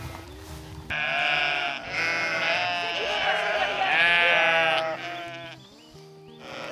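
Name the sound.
sheep bleating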